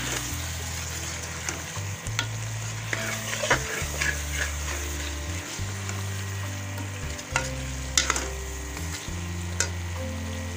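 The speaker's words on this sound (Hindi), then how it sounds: "शलजम की बुनाई अच्छी तरह हो गई है" Sliced turnips stir-fried in a pan for a desi shalgam dish, with steady frying sizzle and repeated stirring scrapes and clinks of a utensil against the pan, close and continuous with no talk.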